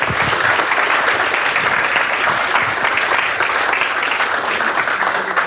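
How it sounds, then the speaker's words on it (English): An audience breaks into dense, loud applause that holds steady for several seconds, a continuous wash of clapping from a crowd at a talk on the sound effects industry. "Give him a round of applause."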